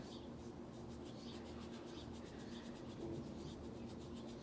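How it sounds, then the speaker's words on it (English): Athletic tape is rubbed firmly onto the ball of a bare foot, a quiet, steady brushing friction sound that runs throughout without talking. "really rub it on there good"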